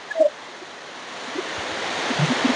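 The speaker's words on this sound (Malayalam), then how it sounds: "വന നിബിഡതയിൽ നുരഞ്ഞു പതഞ്ഞൊഴുകുന്ന വെള്ളച്ചാട്ടവും കാഴ്ചകളുമൊക്കെ ഉണ്ട്." Steady broadband rush of a waterfall tumbling through dense forest, foaming water roaring evenly throughout with a brief soft knock near the start and no voices.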